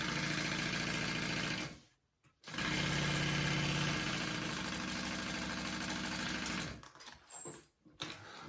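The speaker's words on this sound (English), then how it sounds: "I'm going to sew that at 1/4 of an inch here" A domestic sewing machine stitches a handbag seam through waterproof canvas, running in a steady close mechanical whir that stops briefly, restarts, then halts again near the end with a few short bursts.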